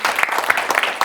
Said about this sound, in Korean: 큰 박수를 모시겠습니다